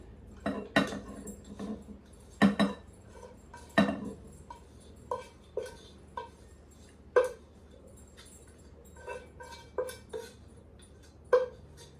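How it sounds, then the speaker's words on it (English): A spoon stirs macaroni into a cheddar mixture in a bowl, producing irregular clinks and knocks of utensil on dish, some louder and some softer, close by with no talk. "you're gonna stir that together until it's well combined"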